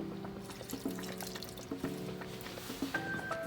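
Lemon juice trickles into a food processor with chopped ingredients, a quiet, uneven run of drips and light splashes in a kitchen, with no talking.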